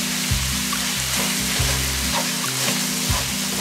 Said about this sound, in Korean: 또 이제 볶아줍니다.